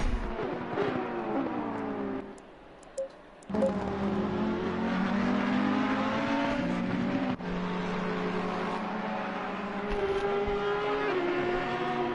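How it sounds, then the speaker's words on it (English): Race cars lapping the Nürburgring in a series event, engines loud and near with rising and falling revs, gear changes and a brief drop-out before the roar resumes, continuing steadily without talk. "Ferrari now pushing to get that P3 podium position back away from Elliot Hankin"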